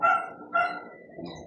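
A husky-Labrador mix dog gives two loud, close barks in quick succession, followed by a softer yip or whine, heard alone without talk.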